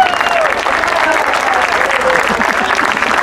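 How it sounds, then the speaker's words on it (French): A crowd at the Grand Prix de Lillers cycling race applauds SCO Dijon rider Alfie George, loud continuous clapping with a faint announcer's voice underneath. "Les applaudissements pour Alfie George"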